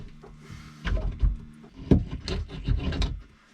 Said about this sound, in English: The gleeful sound of tearing silicone.